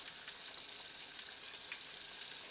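Pre-cooked chitterlings coated in sweet potato starch deep-fry in hot oil with a dense, steady crackling sizzle, even and close throughout, with no voices.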